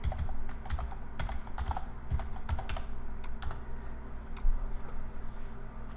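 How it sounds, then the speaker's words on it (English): Fingers tap steadily on a computer keyboard, a quiet, close run of irregular clicks over a faint background hum with no talking. "You can go up here and type in FTP"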